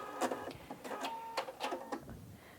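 A Husqvarna Viking Opal 690 sewing machine stitches a tapered decorative stitch, giving a few short bursts of rapid mechanical clatter with brief pauses between them, close and fairly quiet.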